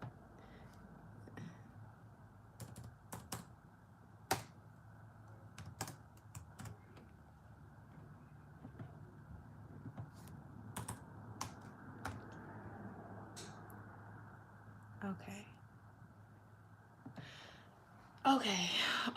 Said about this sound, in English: I need to stop typing with one hand